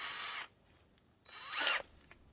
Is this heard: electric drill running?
yes